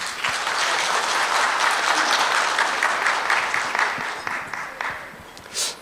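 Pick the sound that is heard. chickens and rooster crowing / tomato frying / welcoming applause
welcoming applause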